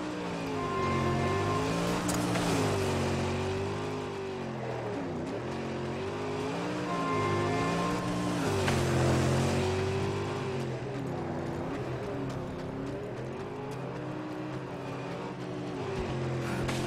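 A car in the Mad Max game drives with a steady engine drone whose pitch rises and falls through gear changes and revving, loud and continuous for the whole stretch, with no talking.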